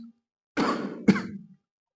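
Two close, rough coughs in quick succession, the second sharper, followed by silence.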